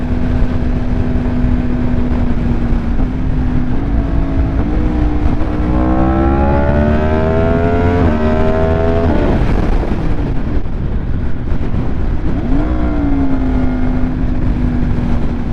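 A 2025 Yamaha R1 sport bike with an SC Project exhaust, loud and close, the engine climbing through rising revs, blipping and dropping back, with a brief throttle flare near the end and no voices.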